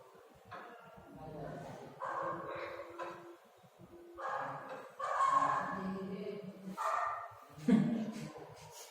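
A dog barks a few times in the background during an online class call, the yelps short and muffled behind people talking over an open speaker.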